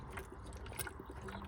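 Coolant trickles and gurgles steadily into the cooling circuit of a BMW E90 with the M47 163 hp diesel engine, a faint, close liquid flow during a water pump and thermostat change.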